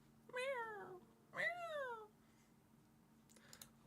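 A cat meows twice in a row, two clear drawn-out cries at close range, then a quiet pause with faint background noise.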